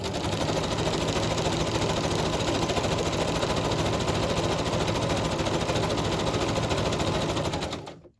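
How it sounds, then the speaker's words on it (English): A sewing machine stitches a journal page, its fast steady needle chatter running loud and continuous for several seconds before stopping abruptly. "We'll stitch our other things while we're at it as well."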